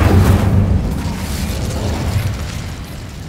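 Incendio fire spell cast in Hogwarts Legacy on Xbox Series X, a loud booming burst at the start that settles into a sustained low roaring rumble, with no talk.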